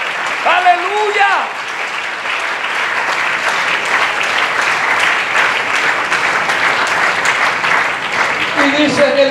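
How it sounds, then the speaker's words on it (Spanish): A church congregation applauding in a steady, dense wash of clapping for several seconds, with a voice heard briefly at the start and again near the end. "Démosle un aplauso por esa bendición."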